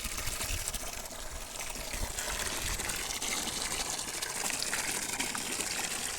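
Steady rushing gush of water pouring continuously into a cattle water tank, loud and close, with no pauses.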